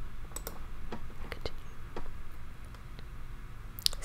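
Computer mouse and keyboard clicks at a desk during a Google Play Books upload, a handful of quiet, sharp, irregular ticks over low room hum.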